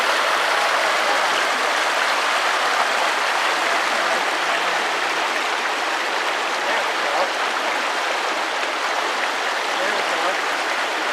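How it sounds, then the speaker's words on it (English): A small river on the Oregon coast flows steadily, a continuous close rushing and splashing of water that stays even throughout with no voices. "There we are back at the little river here."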